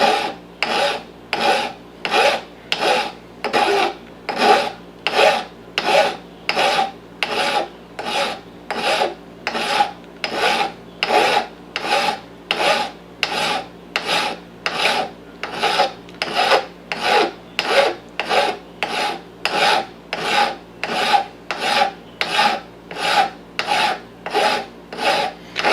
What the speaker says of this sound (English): what I'm doing is I'm also filing a little bit at this angle